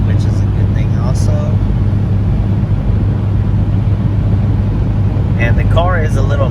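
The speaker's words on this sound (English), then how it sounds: "the car is a little loud, if you guys can hear it when we're coming up" A 1999 Honda CR-V's B20 engine drones with a loud, low, rumbling exhaust through an aftermarket muffler, steady throughout, while a person talks briefly over it near the start and end.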